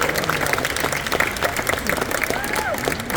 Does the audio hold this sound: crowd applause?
yes